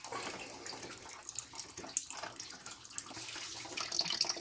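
Coolant pouring from the underside of a car radiator into a bucket, a steady, faint splashing trickle of liquid heard close by without speech.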